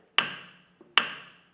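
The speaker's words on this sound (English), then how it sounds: "what I'm going to try to do is hammer here on the side." A hammer strikes the side of a stubborn cylinder head on a Ford Model A engine, two sharp metallic blows with ringing decay and a small tap between them, close and loud.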